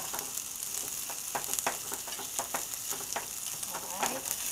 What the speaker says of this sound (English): Alright, so I mix them all together again. Okay, now this is on high heat now.